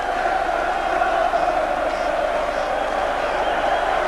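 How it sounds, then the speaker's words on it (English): Liverpool fans in a stadium crowd at a 1988 FA Cup match against Aston Villa, a distant, steady roar of applause and cheering. "the rapturous applause of the Liverpool fans"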